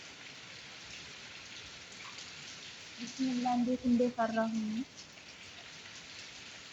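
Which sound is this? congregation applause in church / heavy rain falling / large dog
heavy rain falling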